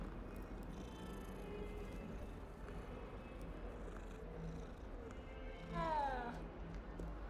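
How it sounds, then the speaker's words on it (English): A cat in the video game Hogwarts Legacy gives a single short meow near the end, rising out of a steady wash of in-game ambience. "Oh, it's just a cat."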